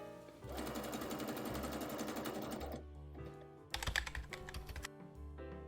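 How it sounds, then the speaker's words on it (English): A sewing machine runs a zigzag or overlock stitch along a knit dress seam, whirring in a fast, steady rhythm at close range, then pausing and restarting in shorter bursts with no talk. "Then you're going to zigzag or overlock it."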